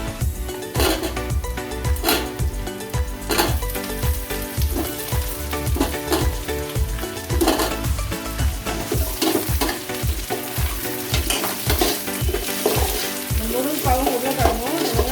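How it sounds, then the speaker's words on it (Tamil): Drumsticks and potato cubes sauté with onions and curry leaves in a pan, a steady loud sizzle broken by repeated scraping stirs of a spoon, with no one talking. "முருங்கைக்காவும் உருளைக்கிழங்கும் வெங்காயத்தோடு நல்லா வதங்கட்டும்"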